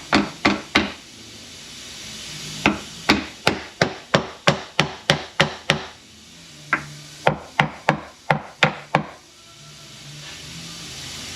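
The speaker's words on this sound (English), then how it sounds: "you can get a hammer, tap up on your cover" A hammer taps on a metal cover during disassembly of an M7ZA, sharp close knocks coming in quick bursts of three to nine strikes separated by brief pauses.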